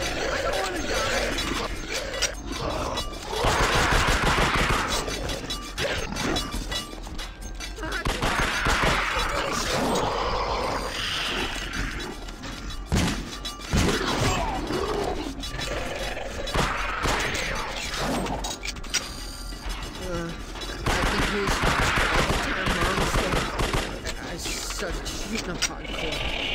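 Game audio from the horror shooter The Suffering: Ties That Bind, with dense bursts of gunfire and crashing impacts running nearly continuously, loud and busy, mixed with voices and clattering mechanical noise.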